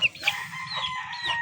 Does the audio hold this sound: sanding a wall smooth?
no